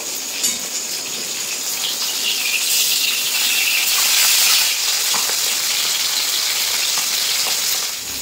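Small fish, rubbed with salt and turmeric and flipped in hot oil, fry with a steady bright crackling sizzle that holds close and even throughout, with no voices over it.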